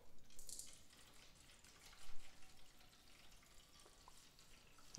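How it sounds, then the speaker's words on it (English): Windex glass cleaner refill is poured into a 23-ounce spray bottle, a gentle trickling, splashing liquid stream with a few faint drips and no talk over it. "I'm just going to pour it in like this"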